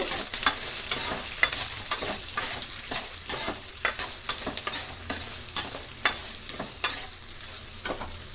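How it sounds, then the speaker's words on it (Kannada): Onion and curry leaves fry in a pan for a ladies finger gojju, a steady close sizzle broken by repeated sharp scrapes and clacks of stirring throughout, with no voices. "ಅದರ ಜೊತೆಗೆ ಸ್ವಲ್ಪ ನಾನು ಕರಿಬೇವಿನ ಸೊಪ್ಪನ್ನು ಕೂಡ ಸೇರಿಸ್ತಾ ಇದ್ದೀನಿ. ಇಷ್ಟನ್ನು ಫ್ರೈ ಆಗಬೇಕು."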